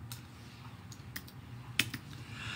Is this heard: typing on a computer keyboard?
yes